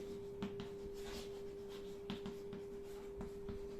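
Chalk or marker writing on a board in a classroom, faint scratchy strokes in short bursts over a steady background hum, no talking.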